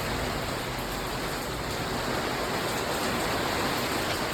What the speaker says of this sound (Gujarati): વરસાદ આવે ફૂલ